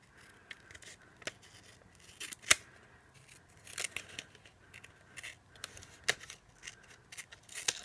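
Scissors snip through paper in a series of short, sharp cuts, irregularly spaced with quiet pauses between, close and fairly soft.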